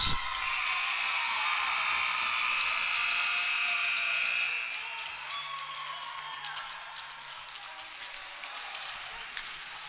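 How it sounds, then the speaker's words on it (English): Crowd at a Chile versus Puerto Rico men's ice hockey game in the Latam Cup 2021 cheering a Chile victory, a loud broad roar that drops partway through and settles into quieter sustained crowd noise. "The Chile crowd is about to erupt for the victory."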